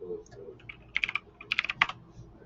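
Numbers typed on a computer keyboard in two quick bursts of crisp, close key clicks, with a brief pause between them.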